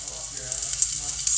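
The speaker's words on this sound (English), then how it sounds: "See that sizzling?" Garlic sizzles and fries in a pan on the stove, a steady close hiss with small crackles running throughout.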